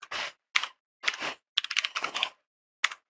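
Close, crisp typing of code on a computer keyboard in short bursts of rapid clicking, separated by brief silent pauses and ending with a single sharp keystroke.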